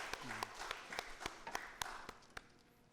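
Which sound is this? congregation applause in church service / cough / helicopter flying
congregation applause in church service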